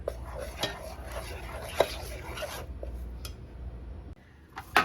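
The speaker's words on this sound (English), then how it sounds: "you just want to stir in your peanut butter until smooth" Creamy peanut butter being stirred into a mixture in a pot with a utensil, quiet scraping and rubbing with occasional clinks of metal against the pot, close and soft, no talk.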